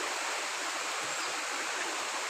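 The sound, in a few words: flowing water of a small river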